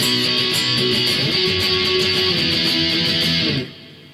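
Distorted electric guitar chugs through the power-chord verse of a song, a dense, steady wall of sound lasting a few seconds before stopping abruptly, with no voices.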